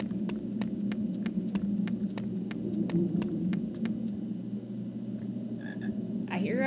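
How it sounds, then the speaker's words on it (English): A frog in the Harry Potter and the Philosopher's Stone PC video game croaks in a steady, evenly spaced series of short clicks over a constant low hum, with a brief higher whine partway through and no talking. "I hear a frog."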